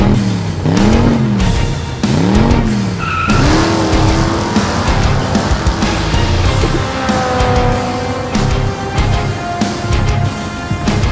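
A video-game baggage truck roars close by as its engine revs up and down, with long tire squeals and skids sliding through the turns.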